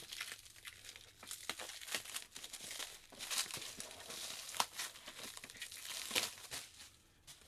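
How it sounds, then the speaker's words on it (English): Crinkly plastic wrap being torn and peeled off boxed Sega Master System game cartridges, close, continuous crackling and crumpling in irregular bursts, fairly quiet and without speech. "So I guess let me take this off real quick. Hopefully that's not too loud. It's in plastic wrap."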